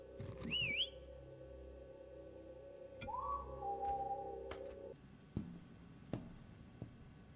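Eerie whistling in the spooky boat horror game Lazaret sounds in two short rising and wavering tones over a low droning hum, followed by sparse clicks and knocks.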